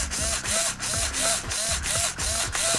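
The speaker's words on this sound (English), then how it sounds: "The servo works, and also the speed controller." An RC car's steering servo and electronic speed controller run on the bench, giving a repeating mechanical whir and ratcheting buzz in a regular pulsing cycle of about six bursts, close and unaccompanied.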